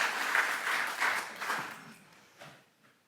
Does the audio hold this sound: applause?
yes